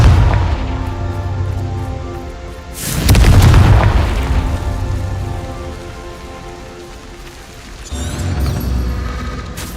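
A Confringo fire spell in Hogwarts Legacy bursts loudly at around three seconds, a booming blast over a constant crackling rain-like hiss, with a second, weaker burst near the end.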